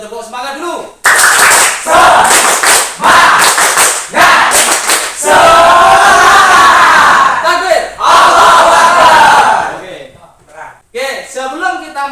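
Primary school students in a classroom perform a rhythmic spirit clapping cheer, loud patterned bursts of group claps alternating with shouted chanted voices, close and energetic, ending in scattered lighter claps.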